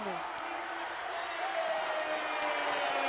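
A basketball arena crowd roars in a sustained wash of cheering during a BCU men's game against Southern, loud and continuous with a commentator talking over it.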